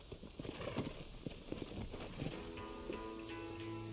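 Horse hooves clip-clop at a walking pace in Red Dead Redemption, with uneven close thuds for a few seconds before a faint steady tone takes over and the steps thin out.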